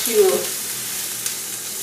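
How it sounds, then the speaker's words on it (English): Steady sizzling of cabbage and kale frying in a hot pan, a continuous bright hiss with a brief clatter of stirring near the start. "So I just have the cabbage and the kale in the frying pan at the moment."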